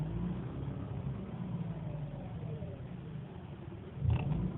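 A Mazda RX8 rotary engine idling roughly and sagging as if about to stall, an uneven low rumble that dips and wavers, with a brief louder surge near the end.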